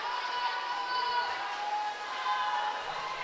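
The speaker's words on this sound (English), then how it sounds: "The Central coaches desperately cheering on their swimmer to continue the battle" Steady crowd noise and cheering fill an indoor pool at a swim meet, continuous and echoing, with coaches' shouts blended into the general roar rather than standing out individually.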